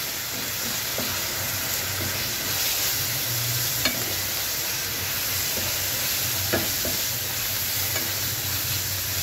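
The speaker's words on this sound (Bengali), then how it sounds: "1 টেবিল পরিমাণ রসুন বাটা দিয়ে দিচ্ছি। শুধু রসুন বাটা দিব, আদা বাটা দিব না। আবার একটু ভেজে নিতে হবে।" Garlic paste fries with catla fish belly in oil, a continuous hissing sizzle with faint scattered utensil taps now and then, close and unbroken by speech.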